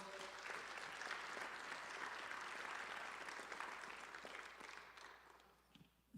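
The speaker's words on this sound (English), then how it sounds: "give these gentlemen a round of applause" An audience at a business summit gives a panel of gentlemen a round of applause, full and sustained clapping that gradually fades toward the end.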